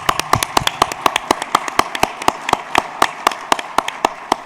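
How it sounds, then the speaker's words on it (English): Audience applause at a Phoenix Police Department awards ceremony, heard as a run of sharp, distinct claps in a fairly steady rhythm, loud and close, with no talking over them. "Please give them a warm round of applause."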